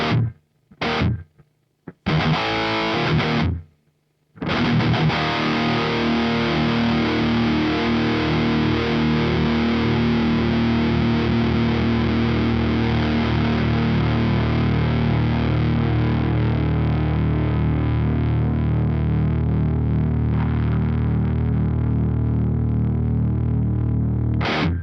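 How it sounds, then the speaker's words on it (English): Heavily distorted electric guitar through a Marshall JVM410HJS amp with a noise gate: a few short chugged bursts separated by dead silence, then one loud chord ringing out and sustaining for about twenty seconds, slowly fading without being cut off. "So you can hear that the sustain of the guitar is being preserved."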